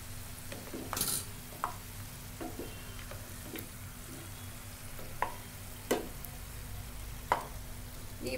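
Ring murukku, a Deepawali snack, fries in hot oil with a low steady bubbling hiss, punctuated by a few sharp ticks and clinks that stand out at intervals.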